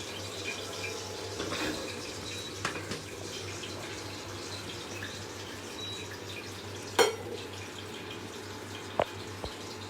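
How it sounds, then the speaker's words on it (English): Paneer slices shallow-fry in a pan in a home kitchen, giving a steady low sizzle and bubbling with a few faint clinks of a utensil. "yeah, I am frying."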